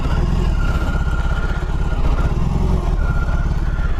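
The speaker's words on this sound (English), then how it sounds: "the Boxer twin kind of pulls you on both ends when you start her up for the first time" A 2021 BMW R18 Bagger's big boxer twin engine, a loud, steady, deep throbbing rumble with a low pulsing beat, close and continuous with no talk.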